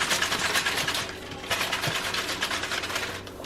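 A toaster is shaken to knock crumbs loose, producing repeated rattling, clattering bursts in quick rhythmic succession, close and moderately loud.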